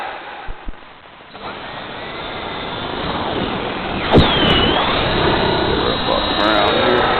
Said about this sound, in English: It's a little bit of a temperamental helicopter.